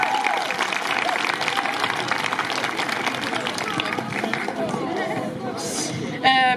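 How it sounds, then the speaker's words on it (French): A crowd at a youth climate strike rally applauds in the open air, with steady mid-distance clapping mixed with cheering and chatter. A brief sharper noise comes near the end. "On applaudit très fort s'il vous plaît."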